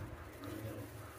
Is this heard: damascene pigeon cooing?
yes